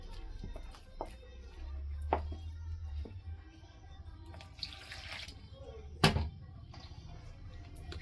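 Water is poured into flour to make soft noodle dough, a quiet trickle and splash over a low background hum, with a brief louder knock near the end.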